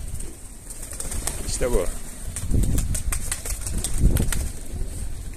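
A pigeon flaps its wings in a few quick bursts and coos softly nearby, mixed with people talking throughout.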